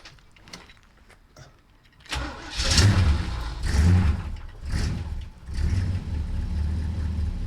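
A Mercedes car engine starts up after a quiet moment, then idles and blips through a small exhaust, close and steady with uneven pulses.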